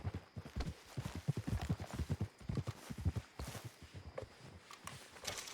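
Horse hooves clop in a steady, rhythmic walking gait in Red Dead Redemption 2, close and fairly loud, with faint low background ambience throughout.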